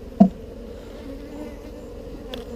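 Honey bees hum in a steady, close drone around an open beehive in Texas, with a soft knock near the start and a faint tap near the end.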